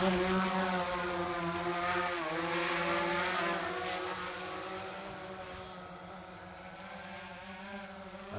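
A quadcopter drone takes off and flies outdoors, its rotors giving a loud, layered buzzing whine like angry bees that shifts in pitch and slowly fades as it moves away.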